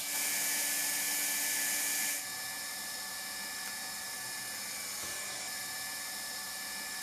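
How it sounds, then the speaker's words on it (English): A hand-held hot-air welding gun hisses steadily while sealing a joint in Noraplan rubber flooring with a hot welding rod at 350 to 400 °C, a loud continuous blowing hiss that drops slightly in level partway through. "Heat up the hand-operated hot welding gun, place it on the joint and seal it using the hot welding rod"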